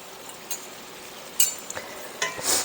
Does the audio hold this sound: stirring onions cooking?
yes